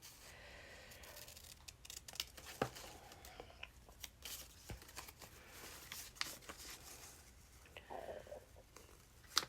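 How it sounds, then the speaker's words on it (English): Scissors snipping through paper at a crafting table, with irregular crisp cuts and light rustles and crinkles of paper between them, close and fairly quiet. "just cut them with scissors instead"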